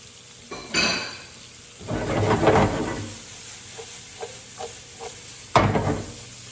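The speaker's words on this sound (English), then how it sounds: "I'm trying to just sweat them out and soften them" Onions sweating in a hot pan for a marinara bolognese, heard as a soft sizzle between loud clanks of a utensil against the pan and a few lighter clinks, with no talking.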